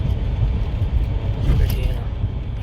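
A car cruising along a quiet road in light traffic, steady low road rumble and tire noise filling the cabin throughout, fairly loud and continuous.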